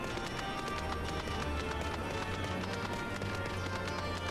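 Horse galloping in a video game, a fast continuous run of hoof beats over a dense, loud game soundtrack, with no break in the rhythm.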